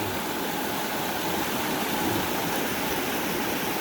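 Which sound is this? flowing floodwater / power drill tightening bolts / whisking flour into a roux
flowing floodwater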